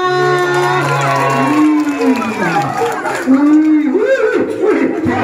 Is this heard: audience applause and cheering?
yes